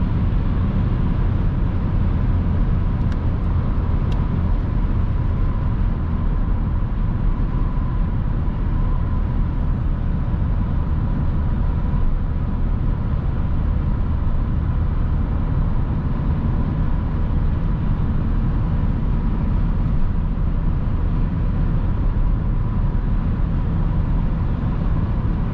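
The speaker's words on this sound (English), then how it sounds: "So let's go and drive it on the highway." An Alfa Romeo 159 1.9 JTDm diesel, 150 HP, cruises on the highway, giving a steady low engine drone and road rumble that hold unchanged throughout, with no talking.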